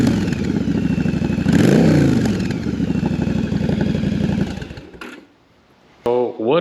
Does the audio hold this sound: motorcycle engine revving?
yes